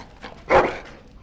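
In the video game Dragon Age: Origins, a dog whimpers and lets out a single short bark, the yelp standing out clearly at moderate loudness over a quiet background.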